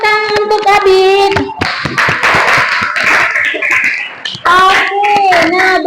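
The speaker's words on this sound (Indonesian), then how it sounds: "Tepuk tangan untuk Adit." A classroom claps briefly for a student during a lesson, with short bursts of hand claps and taps amid children's voices, and a teacher's singing-like voice before and after.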